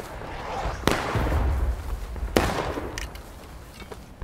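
Musket volley fire in the Civil War game War of Rights, two loud sharp volleys about a second and a half apart, followed by scattered fainter shots.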